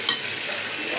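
Fish is added to hot, well-cooked spice masala for a bottle-gourd curry, giving a short, steady sizzle and frying hiss with a brief stirring clink at the start.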